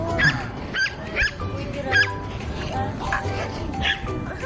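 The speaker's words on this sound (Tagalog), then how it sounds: "Ito naman yung maligalig na corgi." A lively corgi outdoors in Taguig gives a series of sharp, high yips and barks mixed with whiny whimpers, repeating in short bursts at close range over steady background noise and a low murmur of voices.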